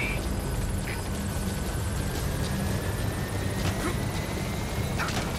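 A helicopter arrives at a landing zone in the Metal Gear Solid V video game, its rotor beating in a loud, dense, constant roar that fills the whole clip.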